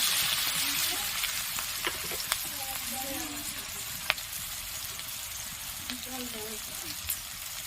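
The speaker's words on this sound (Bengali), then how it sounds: "আমি কেটে রাখা পেঁয়াজ কুচিটা দিয়ে দিলাম। ভালো করে ভেজে নেবো, ভালো করে।" Chopped onion with panch phoron fries in a pan with a constant bright sizzle, punctuated by occasional light clicks and taps of stirring throughout.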